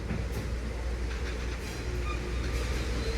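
Steady rumble of a Tennessee Valley Railroad Missionary Ridge Local passenger train ride, heard from on board as a continuous low roar with faint rattling, no voices.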